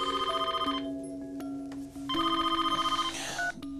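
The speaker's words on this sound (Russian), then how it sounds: "Дмитрий Давыдович, вам звонят из ФЭС." An office telephone rings in two long electronic trilling bursts separated by a pause, close and clear with no talking.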